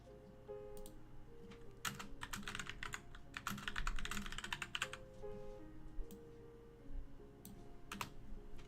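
Computer keyboard clatters with fast bursts of typing and repeated key presses while code is erased and rewritten, close and moderately loud with short pauses between runs of keystrokes, no talk.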